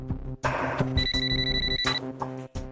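A phone's ringtone plays nearby, a loud electronic melody with sustained beeping tones repeating in short bursts.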